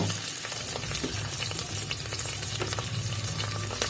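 Chopped onions, curry leaves and green chillies fry in hot ghee for a broken rice kuska, giving a steady, close, dense sizzle with faint stirring scrapes throughout and no talking.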